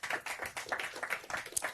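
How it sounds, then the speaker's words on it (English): A conference audience claps through an energy-day event, a light patter of many hands at moderate distance, brief and fairly soft with no talking. "A round of applause for him as well."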